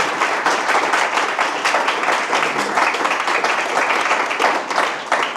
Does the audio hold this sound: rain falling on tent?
no